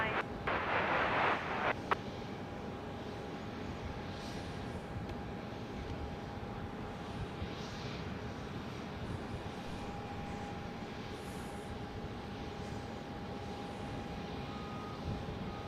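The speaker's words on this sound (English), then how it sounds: "we've got a plane coming in" An airplane at Dallas Love Field airport produces a steady, distant engine roar under faint background voices, with a brief louder rumbling burst at the start.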